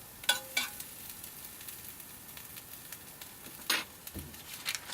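Onions sizzle softly in a pan while a spoon stirs them, giving a few distinct scraping clatters over a low, steady frying hiss, close and unaccompanied by speech.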